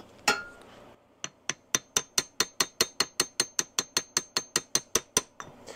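A flat-faced hammer tapping the end of a shaft on a Harley-Davidson XLCH Ironhead transmission, with one heavier blow followed by a long, steady run of about twenty sharp metallic taps at an even rhythm.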